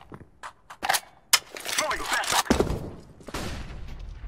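Gunfire in a Counter-Strike style shooter match, with sharp isolated shots followed by a denser burst of cracks and mechanical clatter while a player talks over them.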